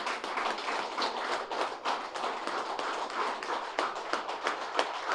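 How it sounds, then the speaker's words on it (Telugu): Audience at a Pyramid Center eighth anniversary gathering in Meerpet claps loudly and steadily for the energy bank, a dense, continuous patter of many hands with no talk. "ఈ ఎనర్జీ బ్యాంక్ ఒకసారి గట్టిగా క్లాప్ చేసుకుందాం."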